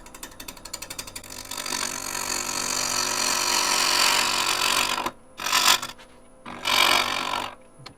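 A wood lathe gouge cuts a multi-axis turned bowl in a steady, rough, rushing scrape with a rhythmic ticking at the start, then the cut breaks off and returns in two short passes.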